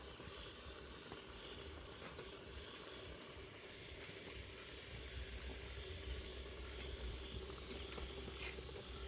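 Food boiling and steaming on a wood-fired village stove, a steady broad hiss with low bubbling rumble running continuously and evenly, close and moderately loud with no talk.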